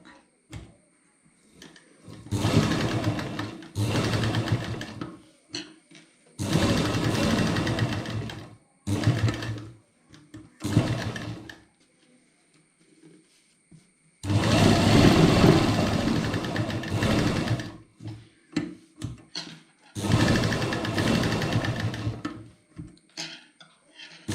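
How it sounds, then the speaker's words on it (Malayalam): Sewing machine stitching the sides of a cloth mask together, running in several bursts of a few seconds each with quiet pauses and small handling clicks between them, close and without speech. "ഇവിടെ ഈ കാണുന്ന സൈഡുകൾ തമ്മിൽ കൂട്ടി തയ്ക്കുക"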